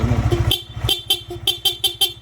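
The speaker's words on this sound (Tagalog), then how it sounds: "Sa busina ni Sir, nilagay natin Seger horn." A Seger horn on a Yamaha MT15 motorcycle honks in a rapid series of short, bright blasts over a steady idling engine, close and loud.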